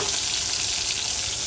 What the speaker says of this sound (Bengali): একটু উল্টে নিলাম, এক পাশটা ভাজা হয়ে গেছে অল্প, তাই আরেক পাশটা উল্টে ভেজে নেবেন